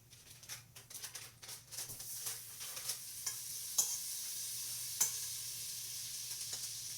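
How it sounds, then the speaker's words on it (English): Butter melting in a hot pot for chocolate chip cookie dough, stirred steadily with soft scraping strokes and a gentle sizzle, with a few sharper clinks near the end. "as this is melting, you want to keep stirring it so it doesn't burn"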